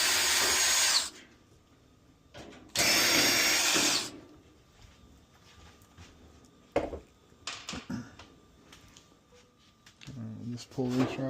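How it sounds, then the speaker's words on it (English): A power drill whirs in two short loud bursts, backing screws out of an LG clothes dryer, followed by scattered clicks and handling noises, with a voice speaking near the end. "I want to take these two screws off."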